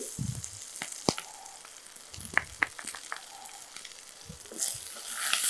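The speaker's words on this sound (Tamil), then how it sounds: "ஒரு நிமிஷம் நல்லா அப்படியே வதக்கி எடுத்துக்கலாம்" Hot oil sizzling and crackling as ginger and garlic fry, with scattered sharp pops and clinks of stirring, close and fairly quiet.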